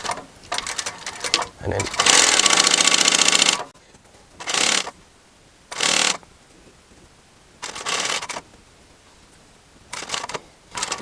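A sewing machine stitches upholstery fabric seams in several separate bursts, one long run and then shorter ones with pauses between, close and clear, with a brief spoken word early on.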